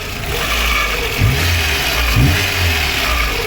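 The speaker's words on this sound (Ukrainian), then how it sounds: "так працює наш двигун" A VAZ 2115 car engine runs close by with a steady rumble, revving up twice in brief surges before settling back.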